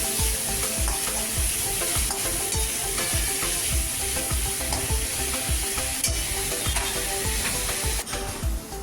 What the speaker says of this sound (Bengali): তারপরে একসঙ্গে সবটা আমরা একটু নাড়িয়ে নিচ্ছি।